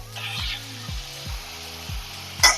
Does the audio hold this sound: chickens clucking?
no